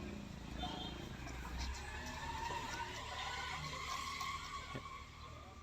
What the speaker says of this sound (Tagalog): Yung kambing ko guys, narinig nyo.